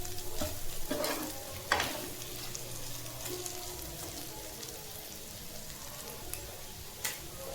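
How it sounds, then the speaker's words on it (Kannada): Chicken sukka roasting dry in a pan while being stirred, a steady soft sizzle broken by occasional spoon scrapes and clinks against the metal, with no one speaking. "ಆ ಚಿಕನೆಲ್ಲ ನೀರಲ್ಲೇ ಇಷ್ಟು ರೋಸ್ಟ್ ಆಗಿದೆ"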